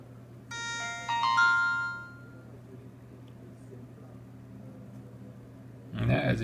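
An Alcatel OT-1042 mobile phone plays its short, bright electronic startup melody after being flashed, a rising sequence of tones over a low steady hum, followed near the end by a brief burst of noise.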